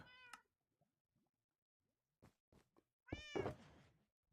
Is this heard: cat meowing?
yes